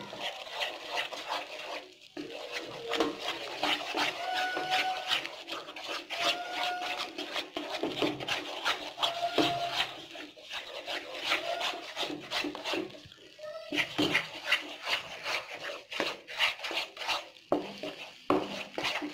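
Spoon scraping and stirring a thickening milk peda mixture with ghee in a pan, with continuous rubbing and scraping strokes and occasional clinks of utensil on metal, close and steady throughout.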